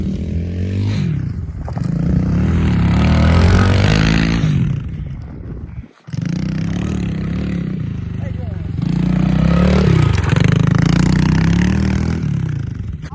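Race pit bike engine on a dirt track, loud and close, revving in two long surges separated by a brief cutoff, with harmonic pitch sweeps as it climbs and drops.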